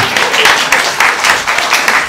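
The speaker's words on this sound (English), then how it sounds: "Round of applause for trying." Brief audience applause at a design talk, a loud close burst of many people clapping in an uneven, pulsing rhythm for about two seconds.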